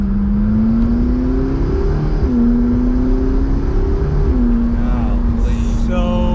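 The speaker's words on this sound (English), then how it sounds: "Oh, the sound of the exhaust, the turbos, the blow-offs." A McLaren 650S in motion, loud continuous engine and exhaust drone with rising and falling pitch as it accelerates through gears, turbo whoosh and blow-off hiss near the end.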